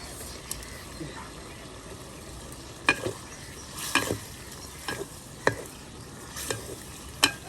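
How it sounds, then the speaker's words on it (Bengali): Beef sizzles and fries in a pot for biryani while a utensil stirs it, with several sharp scrapes and clinks standing out at irregular intervals over a steady close-up crackle. "এখন মাংসগুলো কষানো হয়ে যাচ্ছে, লবণ দিয়ে দিতেছি অল্প"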